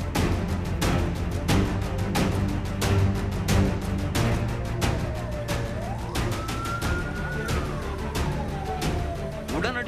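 A fire engine siren sounds during a fire at a Saravana Stores shop, loud and continuous, rising and falling over a busy backdrop of repeated sharp knocks and crowd noise.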